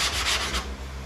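A sanding block rubs back and forth over body filler on a car panel, close and loud, as a steady rasping hiss with a few rhythmic strokes.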